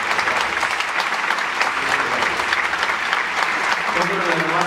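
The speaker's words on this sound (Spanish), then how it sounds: "un aplauso para ellos" A theater audience applauds an orchestra at a concert, steady loud clapping throughout with a voice emerging faintly toward the end.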